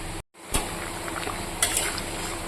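A pot of sour vegetable curry with water added, heating toward a boil, gives a steady bubbling hiss after a brief dropout, with a couple of louder splashy stirring bursts and no voices.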